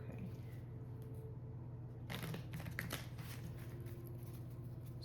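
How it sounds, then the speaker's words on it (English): Tarot cards being shuffled close by, a quiet room tone giving way midway to a short burst of riffling and flicking before settling back to near silence. "Can I shuffle?"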